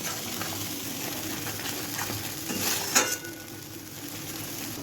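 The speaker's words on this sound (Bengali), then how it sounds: "মিডিয়াম টু হাই ফ্লেমে রেখে মশলাটাকে ভালো করে কষিয়ে নেব" Spice paste of poppy seeds, melon seeds and cashews frying over medium-high flame for a mutton rezala, a soft steady sizzle broken by a brief clatter of stirring near the middle.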